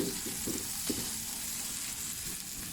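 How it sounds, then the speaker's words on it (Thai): Thai scrambled eggs fry in a pan over medium heat with a dense, continuous sizzle and a few soft scraping stirs near the start, close and moderately loud. "ไข่ขยี้ ไฟปานกลางนะ อย่าอ่อนมาก"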